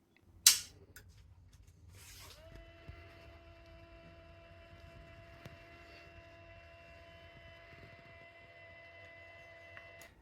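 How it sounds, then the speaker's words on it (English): A new Tunze High Jet auto top-off pump for a Tunze Osmolator runs with a steady, quiet hum and faint tonal whine after a sharp click at the start, continuing evenly with no talking. "And here's what the new pump sounds like."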